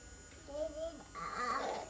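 A child's toy electric vacuum cleaner switches on with a thin buzzing whine, quiet and close, rising partway through while soft voices murmur in the background.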